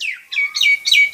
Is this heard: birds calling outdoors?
yes